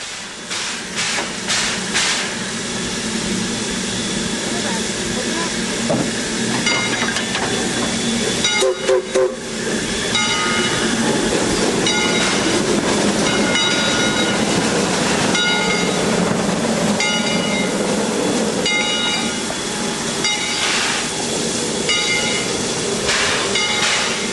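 A Heisler steam logging locomotive backs up, chuffing and hissing with rhythmic exhaust beats and clanking rail cars, moving steadily nearby for a long stretch.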